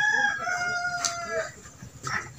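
A desi chicken on a small farm gives a few close, drawn-out cackling clucks, clear and alone over about two seconds.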